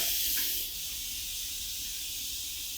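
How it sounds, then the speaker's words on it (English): An Instant Pot releasing steam, a steady loud hiss that holds evenly throughout, running alone without talk. "Instant pot is going."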